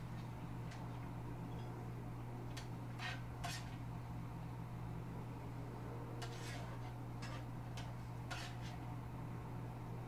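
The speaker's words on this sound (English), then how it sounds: "I'm going to plate it into a bowl." Home-cooked cashew chicken being spooned from a pot into a deep plate-like bowl, with several scattered metallic clinks and scrapes over a steady kitchen fan hum.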